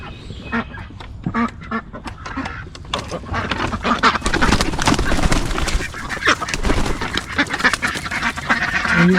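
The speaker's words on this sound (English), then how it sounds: "I come take care of the little ducks" A flock of ducks quacks and honks loudly and continuously as they are fed breakfast, growing busier partway through, with rustling and movement mixed in.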